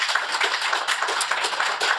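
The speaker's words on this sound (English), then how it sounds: "so a round of applause for Paul" Audience at a Teletext 50 artists panel applauds guest Paul Rhodes: dense, steady clapping from many hands, continuous and fairly loud throughout with no voices over it.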